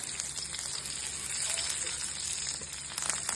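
Rice, dried chillies and curry leaves fry in hot oil, giving a steady, close sizzle and crackle that continues without a break throughout.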